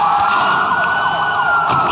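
A police car siren in a video game wails steadily and loudly, its pitch sweeping up and down in a continuous electronic tone with no talk over it.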